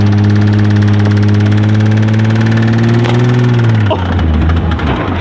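A car engine inside a car hauler idles close and loud with a steady throaty drone. The revs then swell and drop back into a rougher rumble, and a voice gives a brief exclamation.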